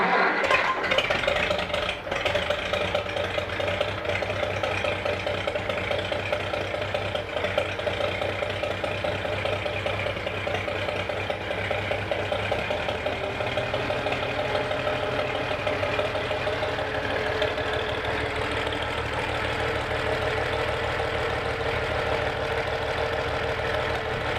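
A Farmall 560 tractor engine that has just been overhauled runs at idle, close by, after a short start at the beginning. It settles into a steady, even mechanical chug that continues with no talk.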